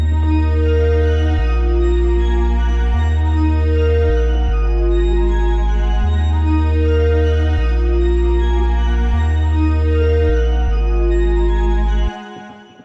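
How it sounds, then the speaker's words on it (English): Several synthesizers from an FL Studio remake of a song play together in a dense, sustained wash, with a deep bass line shifting notes under bright layered tones, then fading at the end. "all these synths will sound like this"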